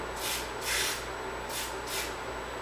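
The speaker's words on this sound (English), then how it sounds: "this is a spray-on cutting fluid" Bursts of spray-on cutting fluid from an aerosol can, four short hissing sprays in an uneven rhythm, close and fairly loud over a steady low hum.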